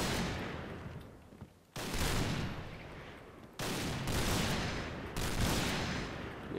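Rapid gunfire from the online shooter Point Blank comes in dense bursts separated by brief pauses, loud and continuous across several volleys.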